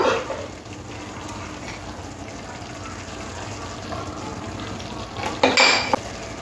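Spice paste with a little water is fried and stirred in a pan for a pointed gourd and shrimp paste curry, giving a steady sizzle with utensil clinks and a louder scraping burst near the end.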